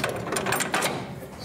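A Ford Model T engine crank turned slowly by hand, giving a continuous close mechanical ratcheting and clicking with gear-like whirring, steady throughout with no talk.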